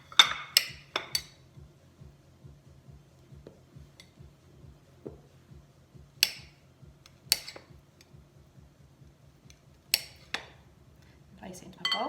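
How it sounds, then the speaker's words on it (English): A knife chopping cold butter into small pieces on a board for shortcrust pastry; a rapid, even run of soft low thuds, close and quiet, with a few sharper clinks of utensils scattered through. "Cut it into small pieces"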